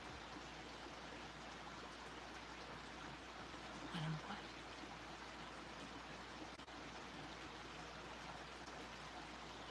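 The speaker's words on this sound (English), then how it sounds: "That's the creek. That's the water flowing, like right here." A mountain creek flows nearby as a steady, faint broadband rush of water, continuous throughout, with a single brief spoken word partway through.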